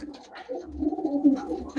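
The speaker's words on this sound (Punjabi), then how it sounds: "ਇਹ ਕਬੂਤਰ ਹੈ ਬਈ" Pet pigeons coo close by in a low, throaty, rolling murmur that swells and fades for under two seconds, with no voices over it.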